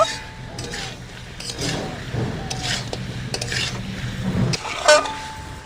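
Small leta fish are stirred in a pan for a tomato and potato fish curry: close scraping and rubbing of a spatula against metal, with light clinks over a soft background sizzle.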